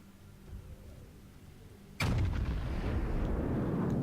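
Battleship main guns firing in World of Warships, a Yamato-class salvo that bursts in as a sudden loud boom midway, followed by a long rumbling roar and echoing tail after a quiet stretch of low background hum.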